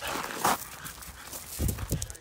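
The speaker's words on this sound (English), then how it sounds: "this dog's much bigger, a French Bordeaux, he loves playing with my little French bulldog" A large French Bordeaux mastiff and a small French bulldog play together, with a sharp bark or yelp early on, then scattered soft thuds and scuffles, faint and close by, with no talk.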